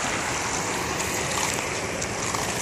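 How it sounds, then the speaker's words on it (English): Drainage water flows steadily out toward the Wolf River in a continuous, close rushing wash like a small stream, with no voices over it. "And water goes on to the Wolf River from here."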